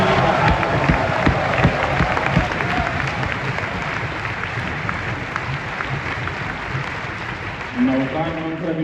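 Audience applause fills a large gathering hall at a Jito event in India, a dense, steady wash of clapping lasting the whole stretch, with crowd noise and voices mixed in.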